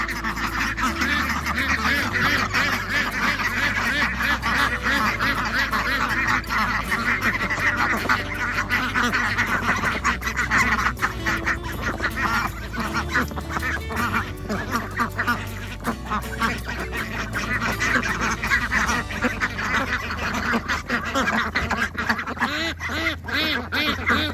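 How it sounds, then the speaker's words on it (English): Loud, continuous quacking from a flock of two-month-old ducks, mainly females, overlapping calls with no pauses, close by and dense throughout. "it's mainly the females that you hear quacking so loudly"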